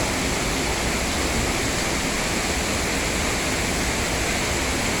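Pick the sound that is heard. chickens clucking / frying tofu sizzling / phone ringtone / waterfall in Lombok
waterfall in Lombok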